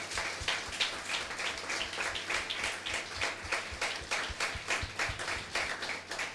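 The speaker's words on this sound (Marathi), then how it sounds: "टाळ्या वाजवा एकदा" A church congregation claps together during a Sunday sermon, a dense, steady patter of many hands that carries on through the whole stretch at full level.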